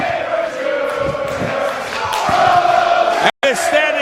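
A standing-room crowd at a wrestling main event in New York City roars loud and continuous, with shouts and chants rising and falling; a voice talks over the noise.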